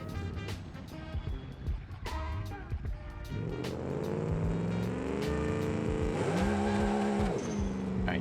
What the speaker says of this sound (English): Go ahead and do a little burnout here.